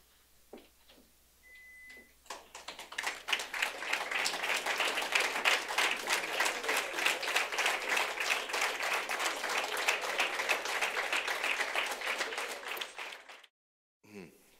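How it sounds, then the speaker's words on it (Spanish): Sustained applause from a standing audience at a Holocaust victims memorial ceremony, dense clapping building quickly after a few isolated claps and holding steady for about ten seconds before stopping abruptly. "nos regalen un minuto de aplausos"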